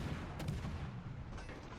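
Naval guns booming in World of Warships Legends, a French cruiser Colbert trading fire with a Conqueror battleship; dense, continuous rumbling cannon fire with a couple of sharper blasts standing out, steady and loud throughout.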